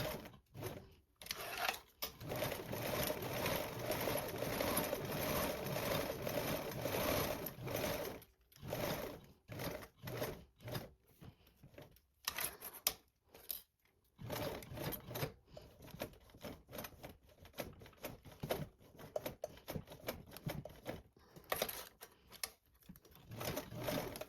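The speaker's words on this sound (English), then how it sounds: "Now we're going to top stitch around with a 1/8 seam allowance." A sewing machine runs a 1/8-inch top stitch around a garment, a close, rapid mechanical whirr that continues steadily with brief stops and restarts.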